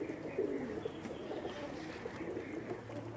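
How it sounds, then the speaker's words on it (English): A tippler pigeon coos softly in hot outdoor weather, the low, faint calls half-buried under a steady background rush. "Look at this bird."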